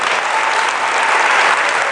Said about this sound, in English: very big round of applause.